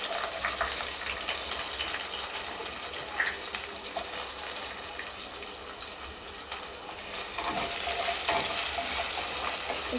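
Onions fry in a pan for Madras vada curry, a dense, even sizzle with soft stirring scrapes that swells slightly louder toward the end.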